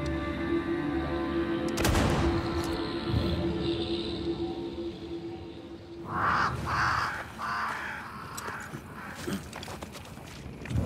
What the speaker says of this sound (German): Außerdem ist da, glaube ich, wieder der Rabe.